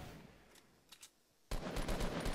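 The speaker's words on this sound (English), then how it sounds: "I believe we heard shots in the distance" Gunfire in a Fortnite Battle Royale match, first as a few faint, distant shots and then as a sudden, louder sustained burst of rapid automatic fire, with no talk over it.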